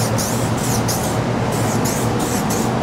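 Short bursts of aerosol reducer spraying onto the dry edge of fresh silver paint, several hissing pulses close by over a steady low hum, with no talking.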